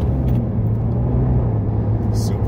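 An Audi R8 supercar drives by as a steady, fairly loud low engine rumble with road noise, holding even throughout with no clear rise or fade.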